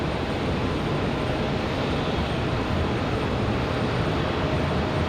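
Republic Airways jet departing Raleigh Durham airport on a windy day, a dense, steady broadband engine roar, loud and unbroken throughout with no talking.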